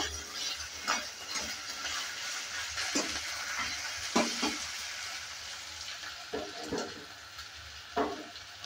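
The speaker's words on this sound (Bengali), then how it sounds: "পেঁয়াজটা দেওয়ার পর ভালো করে একটু নেড়ে চেড়ে নিয়ে ভেজে নেব।" Chopped onion fries in a pan for potato leaves, a soft sizzle under scattered scraping stirs that come every second or so, fairly quiet and close.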